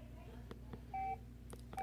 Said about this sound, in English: you can turn off the key beeps.